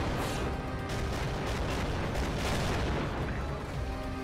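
Dense, continuous booming and blasting from tank cannon fire in the video game Infinite Tanks, heavy shots and explosions layered into a loud, sustained wall of noise with no clear pauses.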